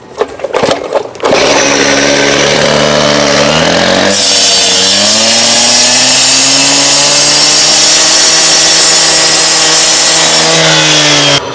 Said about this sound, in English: Here I'm using a saw.